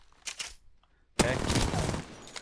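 Close-range automatic gunfire in Apex Legends, bursting in loudly after a short quiet gap and rattling on steadily to the end, following a few earlier faint game sounds.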